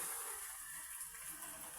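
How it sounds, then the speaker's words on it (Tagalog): Big sea waves whipped up by Typhoon Kristine, a steady loud wash of surf and spray filling the whole stretch without a break, with no voices over it. "malalaking alon yung bigay ng bagyong Christine"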